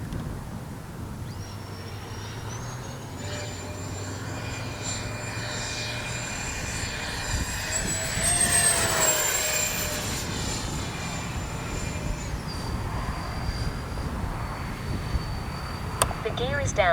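A Freewing 80mm A-10 RC jet flies overhead, its ducted-fan whine steady for most of the pass, swelling and rising in pitch around the middle before settling again, with faint talk underneath.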